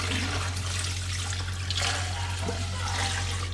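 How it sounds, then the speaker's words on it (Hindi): Water is poured from a jug into a cooking pot for pulao, a continuous splashing gush lasting the whole stretch at moderate level with no talking. "अभी मैं इसमें पानी डाल दूँगी पूरा 1 जग"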